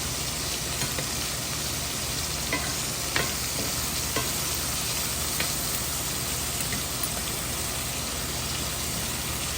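Mushrooms stirred in hot oil, a steady close sizzle and frying hiss with occasional scraping clicks from the utensil, continuous throughout.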